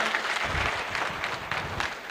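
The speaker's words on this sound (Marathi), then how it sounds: "जोरात टाळ्या वाजवा" Applause for a Shiv Sena MLA at a student felicitation event, a brief dense wash of crowd clapping, steady and fairly loud throughout.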